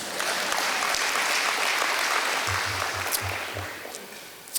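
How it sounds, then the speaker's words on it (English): Applause at a baseball banquet, a dense, steady clapping from a large crowd in a room that gradually tapers off, with a few low thumps near the end. "Got a little bit of applause there."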